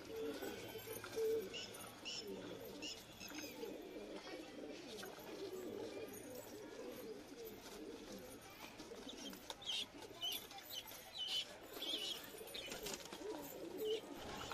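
Pigeons coo softly and repeatedly at a nest while feeding their chicks, with faint rustling and chirps under a low steady background.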